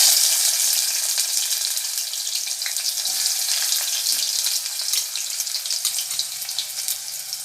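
Onions frying in hot oil for a soya side dish, a loud, dense, steady sizzle that crackles evenly throughout with no voices.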